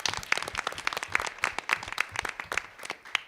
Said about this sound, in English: would it be too much if you give them just a quick round of applause?